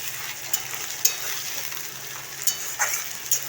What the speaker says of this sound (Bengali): কাঁচা বাদামটা দিয়ে ভালো করে এটাকে ভেজে নিতে হবে লাল লাল করে